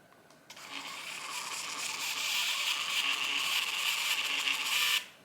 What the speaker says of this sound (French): imprimer un reçu